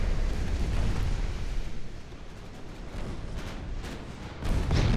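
Naval gunfire in Ultimate Admiral Dreadnoughts as the German pre-dreadnought battleship Deutschland exchanges fire with British ships, a continuous low rumbling roar of distant booming shots that swells again at the end.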